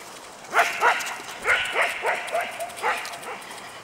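Dogs barking at an outdoor dog park, a series of sharp, fairly close barks in irregular clusters of two or three over a low background murmur.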